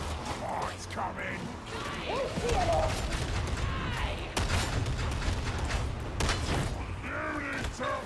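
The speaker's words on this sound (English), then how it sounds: "I'm using the Ripper gun just because I used it on stream and it was fun" A Ripper gun fires in Warhammer 40K Darktide in rapid bursts of sharp reports with mechanical clatter, mixed with creaks and clanks, while voices speak over the action.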